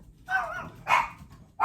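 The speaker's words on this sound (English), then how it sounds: "There must be a dog walking by my house or a jogger." A dog barks outside a house, two or three sharp barks at moderate distance with brief pauses between them.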